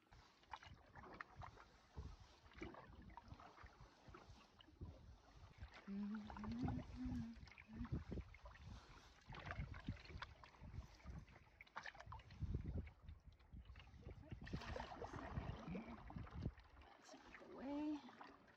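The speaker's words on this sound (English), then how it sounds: "It's time to paddle out." Canoe paddling on a Boundary Waters lake, with repeated soft splashes and water swishes from the strokes under a steady rush of wind noise, close and fairly quiet, while someone talks briefly at times.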